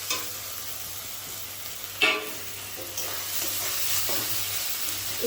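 Fried chicken sizzles in a pan after ginger-garlic paste goes in for an egg roll filling. A steady, moderate frying hiss runs throughout, with a brief clatter of stirring partway through and no one speaking.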